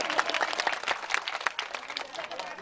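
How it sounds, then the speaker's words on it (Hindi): Crowd at a Shrimad Bhagwat Katha religious gathering in a village applauding to welcome an honoured guest, a dense, lively clapping throughout with uneven bursts. "तालियां बजा दीजिए भैया।"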